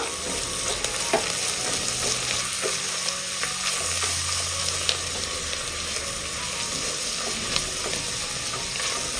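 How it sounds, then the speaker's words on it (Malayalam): Onion and spice masala stirred in a frying pan, giving a continuous close sizzle with scattered light scrapes and clicks of a spoon moving through the mixture. "ഇതൊന്ന് ഇളക്കി കൊടുക്കുക."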